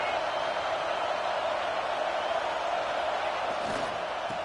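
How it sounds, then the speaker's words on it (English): The home crowd at a TCU versus Texas college football game keeps up a steady, loud roar throughout, a dense wash of stadium noise with no pauses. "Man, this crowd really affecting the football game."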